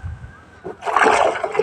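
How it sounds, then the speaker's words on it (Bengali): Water is poured into a mixing bowl of paste-like mixture: a short quiet moment, then a gurgling, splashing pour that fills the last second, close and fairly loud, with no voices. "আমরা আরো কিছু পানি দিয়ে দিচ্ছি"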